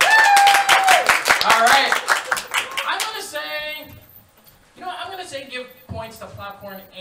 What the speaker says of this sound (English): Popcorn got more claps, but Billy Bob got a yeah!